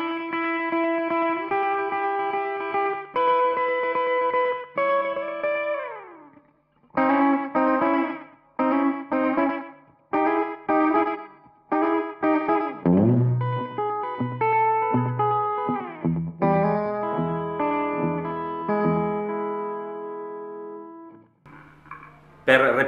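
Electric guitar with a very short single-repeat slapback echo, playing a lively rockabilly phrase of plucked notes, bends and quick runs with brief gaps, no talking.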